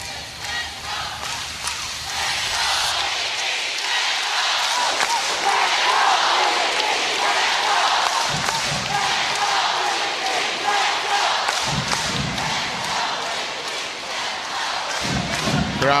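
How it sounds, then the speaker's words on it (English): A volleyball crowd cheers and chants loudly behind the home team at an AVC Challenge Cup 2024 pool match between India and the Philippines, a sustained roar with thumps and bursts, and a commentator talking over it. "Crowd trying to get together here and behind the home team."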